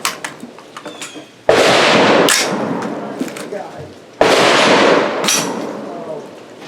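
A Bear Creek Arsenal 350 Legend rifle fires two loud, close booming shots a few seconds apart, each followed by a rolling echo, with a voice heard briefly around them.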